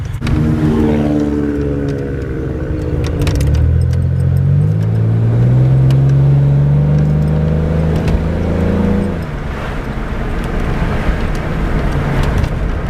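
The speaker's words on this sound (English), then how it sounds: "I like the sound of this car." A car with a cracked radiator and a patched muffler drives and revs, its engine rising and falling loud and close for several seconds with no voices.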